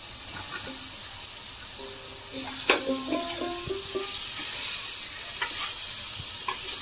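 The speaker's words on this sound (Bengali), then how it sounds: "আলুটা দিয়ে একটু নাড়াচাড়া করে নেব।" Quiet stirring and a low sizzle come from fried potatoes being turned into oily chicken kosha masala in a pan. A few faint tonal sounds appear midway.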